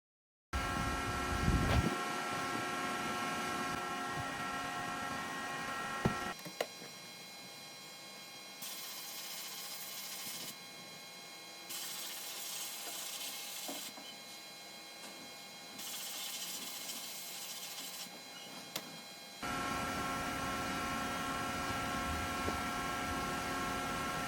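A stamped metal punch is bead blasted inside a cabinet, with a constant hissing blast of media broken by short pauses and mechanical clunks as the blaster switches off and back on.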